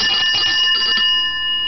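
Loud, bright bell ringing up close, a continuous metallic trill with layered tones that slightly eases near the end.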